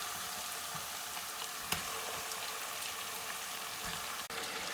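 Chicken fries in a pan with a steady, fairly quiet sizzling hiss that stays even throughout, joined by a couple of brief clicks, with no one talking.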